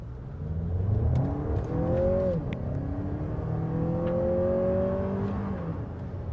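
A Lexus RX with a 2.4-liter turbo engine, 8-speed transmission and front-wheel drive accelerates hard in sport mode. The engine note climbs steadily and drops at each gear change, loud and continuous with no talking.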